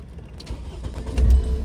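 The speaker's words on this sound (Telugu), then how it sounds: "స్టార్ట్ అయింది బండి, సింగిల్ సెల్ఫ్ స్టార్ట్ అయిందండి." A 2016 Mahindra XUV500 W6 diesel automatic cranks and fires up on a single start, a low rumble building into a deeper engine throb near the end, heard close.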